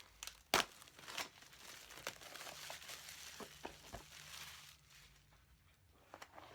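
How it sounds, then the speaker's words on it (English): Crinkly plastic packaging crackles and crumples in short bursts, close and fairly quiet, with a few sharper tearing pops. "Let me see if I can open these."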